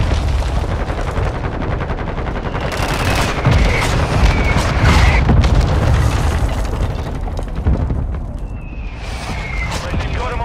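Booms and bursts of gunfire crash through a Call of Duty-style military shooter match during a hostile mortar strike, with heavy low rumbling explosions and rattling shots filling the whole stretch and radio-style voice callouts mixed in.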